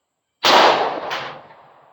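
A single loud, close gunshot from a .45 Auto pistol fired with an H110 powder handload, a sharp crack followed by a brief echo and decaying tail, with no other sound.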